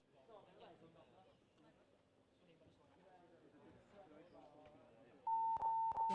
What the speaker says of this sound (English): they're going for the buzzer